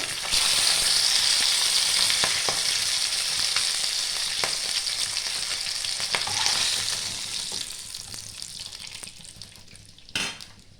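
Pabda fish frying in hot oil, a loud, dense sizzle that holds steady, then tapers over the last few seconds, with a few scrapes and clinks of a utensil against the pan and no talking.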